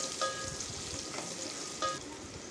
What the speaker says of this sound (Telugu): కట్ చేసి పెట్టుకున్న ఆనియన్స్ని కూడా యాడ్ చేసి 2 మినిట్స్ వీటిని వేగనివ్వాలి.